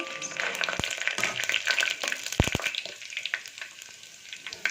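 Mustard seeds spatter and pop in hot oil with a steady sizzling hiss, sharp crackles bursting out irregularly, close up.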